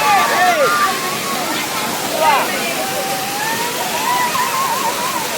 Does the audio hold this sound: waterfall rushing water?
yes